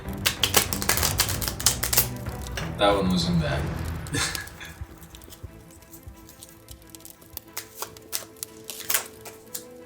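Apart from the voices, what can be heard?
shuffling tarot cards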